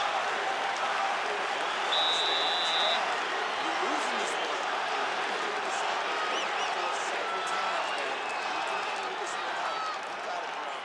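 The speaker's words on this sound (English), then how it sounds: "the crowd pops in appreciation as the fighters work their way back to the feet" An arena crowd in EA Sports UFC 5 keeps up a steady roar of cheering and applause at an even level, with a commentator talking over it throughout.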